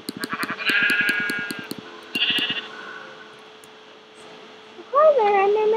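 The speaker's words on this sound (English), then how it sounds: "Really, a sheep?" A Minecraft sheep bleats in a series of short wavering calls, with rapid clicking game sounds underneath and a louder bleat at the end, no voice.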